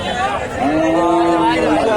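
A cow gives a long, drawn-out moo over a busy background of crowd chatter and other animals at a livestock market selling Friesian heifers in Dhap, Bangladesh.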